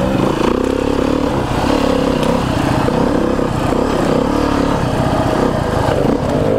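A 300RR dirt bike rides along a trail, its engine droning steadily and loud throughout with a rough, continuous buzz and occasional clatter.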